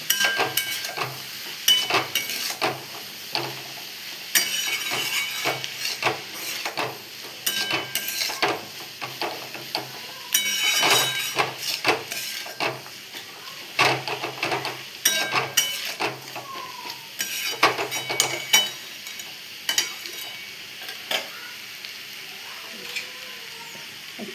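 Food frying and being stirred in a pan, with bursts of scraping and clinking from a utensil against the pan over a soft sizzle, in irregular strokes with pauses between them.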